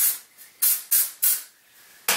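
Several short, forceful bursts of hair product spray, a loud close hiss repeated four times in quick succession with a final burst after a pause, no talking.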